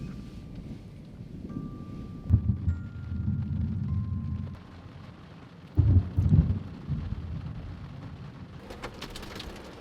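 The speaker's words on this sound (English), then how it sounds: "it's pouring with rain, the thunder is howling away" Heavy rain pouring steadily with rumbling thunder that swells in two loud bursts, buffeting wind noise on the microphone throughout.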